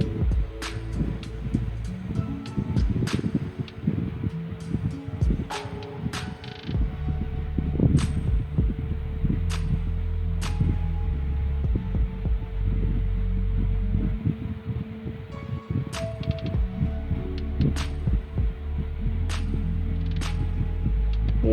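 A domestic sewing machine runs in a steady, throbbing hum, stitching two layers of trouser fabric together, with faint sharp ticks scattered through the long continuous run.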